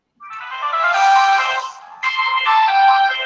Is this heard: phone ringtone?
yes